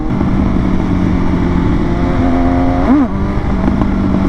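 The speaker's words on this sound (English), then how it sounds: "So now we're going to go for some baby clutch ups to see when the bike comes up at." Motorcycle engine held at steady revs for a clutch-up wheelie attempt, a sustained buzzing drone that rises sharply in a brief rev before settling back, loud and close.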